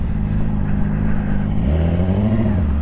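A car engine drones steadily close by, its pitch sliding upward as it passes and accelerates, loud and continuous with no voices.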